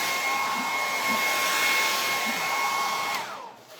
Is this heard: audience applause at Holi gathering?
no